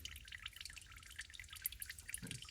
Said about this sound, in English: it is dripping right now, which indicates that the solution is making its way through the piston rings and soaking them and getting down into the oil pan